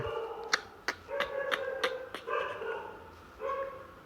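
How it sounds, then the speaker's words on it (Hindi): Dogs barking at night: a run of sharp, close barks in quick succession, some overlapping with whiny yips, followed by a pause and a couple more barks. "यार कुत्तों ने ना पूरी वीडियो ख़राब करा दी"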